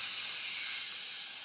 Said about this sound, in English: We're then going to go ahead and let out the vacuum.